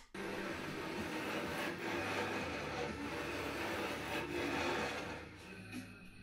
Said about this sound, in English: Fret ends are cut and filed to a bevel.